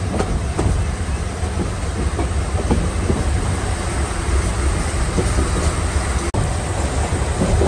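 A train rolls along the tracks near Tejgaon station in Dhaka with a steady low rumble and rhythmic clickety-clack of wheels, heard from inside the carriage of the Haor Express.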